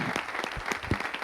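Brief, dense applause from an audience at a school project presentation, steady clapping heard alone without voices.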